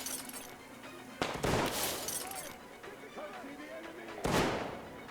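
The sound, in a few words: gunfire in video game Metro Exodus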